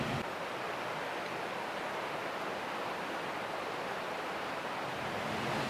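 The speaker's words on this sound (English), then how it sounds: "It's quiet, except for the sound of the river and an occasional plane flying overhead." Steady broadband rush of the Snoqualmie River flowing through a quiet autumn landscape, continuous and even throughout with no talk or other distinct sounds.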